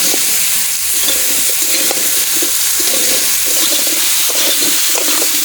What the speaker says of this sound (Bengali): মাছ ভাজার তেলেই লাউগুলো এখন ভেজে নেব।